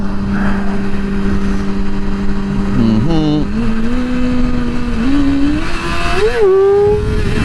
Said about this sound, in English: Let's see if we can get another wheelie up here.